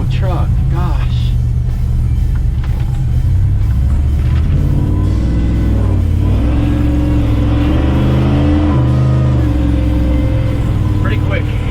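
A supercharged Ford truck engine revs and roars loudly throughout, rising in pitch with a steady supercharger whine, while people talk over it.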